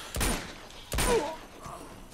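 Gunfire in the video game Uncharted 2: Among Thieves, two loud, booming shots about a second apart, each with a short decaying tail, followed by a faint groan and a softer thud.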